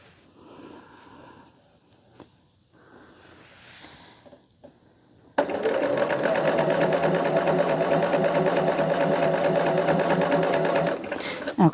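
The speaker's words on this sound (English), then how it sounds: "I like to come in here and I can sew all day." A sewing machine stitches a scrap quilt, starting after some quiet handling noises and running as a fast, steady, loud mechanical whir for several seconds before stopping.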